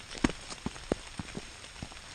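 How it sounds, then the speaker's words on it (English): Scattered raindrops tap on a hiker's gear in the woods during the Signal Knob hike near Elizabeth Furnace, faint irregular close ticks over a quiet hiss. "why am I out in the rain"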